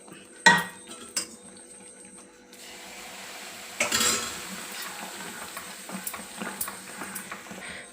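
Mysore pak flour batter is stirred through hot oil in a pan for a festival sweet, with a few sharp metal clinks and scrapes of the spoon over a soft, steady frying hiss. No one speaks.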